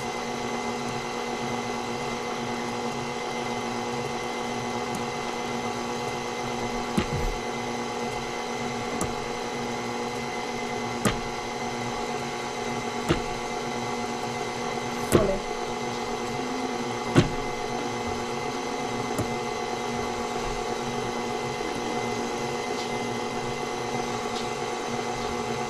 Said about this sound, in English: so our mixer is going